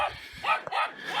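A dog barks a few short times up close, outdoors on a Jamaican farm, each bark quick and sharp, with a voice nearby.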